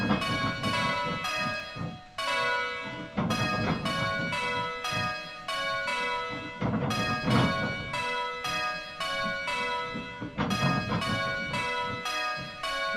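Simulated church bells ring in steady change-ringing rounds on a bell-ringing practice simulator, clear bright strikes falling in even repeating sequences with brief pauses between rows, loud and continuous throughout.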